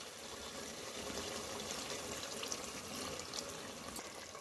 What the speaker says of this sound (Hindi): तो हमने काजू की बोल को खंगाल कर 1/2 कप पानी इसमें ऐड कर दिया